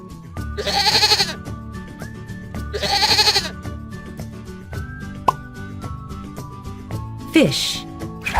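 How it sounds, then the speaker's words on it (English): A goat on a farm bleats twice in bright, quavering bursts about two seconds apart, followed by scattered clicks and a rougher final cry, in a children's animal-learning compilation. "Goat."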